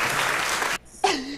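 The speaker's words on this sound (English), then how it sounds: "Everybody, clap." Brief burst of audience applause that cuts off abruptly, followed by a short voice.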